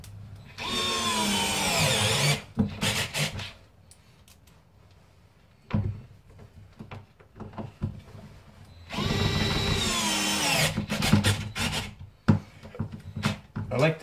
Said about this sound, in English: Just like before, we'll pull the hinges in with these screws.